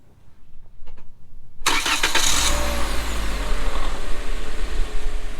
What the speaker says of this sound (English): I'm going to go start the car